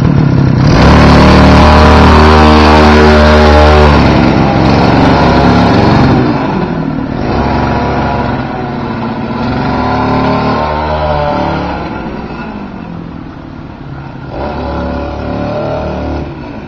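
A 52cc gas engine on a SkaterX motorized skateboard runs loud and close, revving hard with a buzzing, rising and falling whine before settling into a rougher idle, with no talking.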